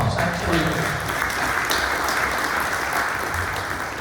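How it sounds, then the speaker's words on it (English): Steady, dense applause fills a room at a dinner with elected officials, a continuous loud wash of many hands clapping at once with no break. "give them a round of applause, absolutely."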